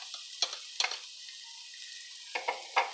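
Minced garlic sizzles in a pan with lamb drippings, a soft steady hiss broken by a few sharp crackles and stirring scrapes, close up and quiet, with no voices.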